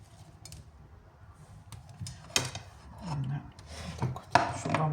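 A knife taps and scrapes against a cutting board while salad ingredients are cut in a home kitchen, with irregular soft chops and a few sharper knocks, close and moderately quiet.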